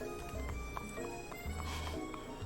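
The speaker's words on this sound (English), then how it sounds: "He arrived on a horse." Video-game horse hooves clop as a mount arrives in a dating game, a few soft spaced hoofbeats over a music-like background.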